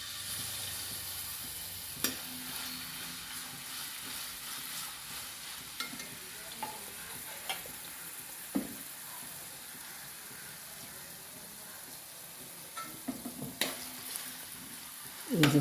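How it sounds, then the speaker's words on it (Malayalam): Crushed garlic and ginger fry in hot oil for a beef and plantain roast, making a low, even sizzle with scattered utensil clicks and scrapes, and a louder clatter at the very end. "എണ്ണ ചൂടായി തുടങ്ങിയിട്ട് നമുക്ക് വെളുത്തുള്ളി ഇഞ്ചിയും ചതച്ചിട്ട് കൊടുക്കാം."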